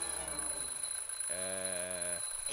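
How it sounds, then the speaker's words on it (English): Smoke detector alarm in the video game The Journey Down, a single sustained electronic tone lasting under a second, heard alone over a quiet game background. "I'm, just testing the smoke detector."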